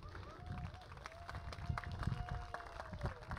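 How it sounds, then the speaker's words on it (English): A church congregation gives a round of applause during a Sunday service, a moderate, steady clatter of clapping heard from a distance with a faint voice beneath it. "can we give Gary a round of applause"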